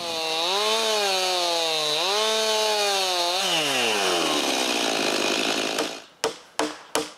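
Chainsaw cutting a log into a 6x6 beam along a wooden guide, a loud steady engine whine with pitch dips under load, then stopping, followed by a few sharp knocks.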